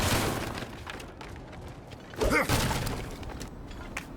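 Breakable objects smashed in God of War Ragnarok give a single crunchy shatter with a brief thud near the middle, set against faint ambient noise and scattered small clatters.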